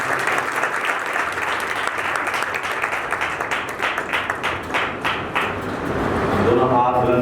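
A church congregation applauds loudly and continuously, the clapping swelling near the end with cheering voices rising over it.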